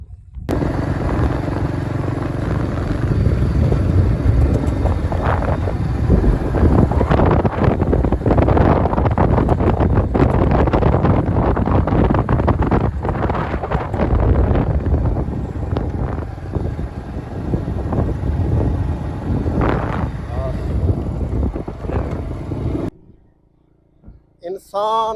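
Wind blows outdoors on a hot day and buffets the microphone in a loud, continuous rumbling roar that gusts and rises, then cuts off sharply near the end.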